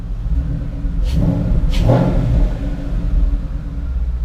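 A Ford Mustang 5.0 V8 with a new intake revs twice in quick bursts over a steady low rumbling idle, the blips loud and close.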